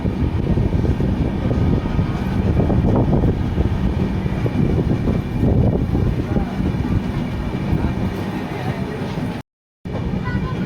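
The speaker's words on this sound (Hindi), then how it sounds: "सप्त क्रांति सुपरफास्ट एक्सप्रेस का अराइवल होता हुआ Anand Vihar terminal railway station की तरफ" A Sampark Kranti superfast express train arrives at Anand Vihar Terminal railway station, a loud, continuous, close rumble of rolling wheels and carriages that holds steady for about nine seconds before a brief dropout near the end.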